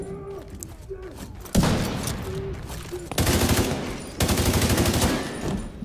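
Heavy automatic turret gunfire in The Division 2: Warlords of New York, loud sustained bursts of rapid shots starting mid-clip and returning in two more long volleys, with voices talking underneath.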